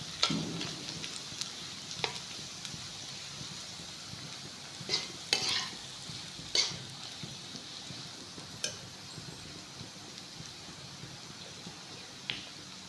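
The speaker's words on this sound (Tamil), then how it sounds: "இந்த பெரண்டையும் இந்த புளியும் சேர்ந்து வதக்கணும்" Pirandai (veldt grape) stalks and tamarind being sautéed together in a pan for a homemade pickle, giving a steady low sizzle with occasional sharp spatula scrapes and stirring clicks throughout, no talking.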